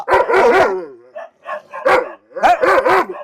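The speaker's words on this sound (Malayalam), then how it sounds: "ഇവനാണ് ഇവിടുത്തെ മെയിൽ ഡോഗ്" A male Rajapalayam dog barks in short loud bursts close by, a cluster of rapid barks, a pause with softer yips, then another quick run of barks.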